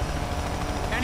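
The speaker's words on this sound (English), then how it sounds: "Hurry up, Ty, that chopper's gonna shut you down." Police helicopter in the racing video game Need For Speed Payback, a loud, continuous rotor and engine roar filling the moment without pause.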